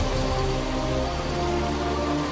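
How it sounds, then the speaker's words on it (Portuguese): Steady rain falls in a dense, even wash with no distinct drops standing out. It holds at a constant level from start to finish, with no voices over it. "A chuva é o teste máximo."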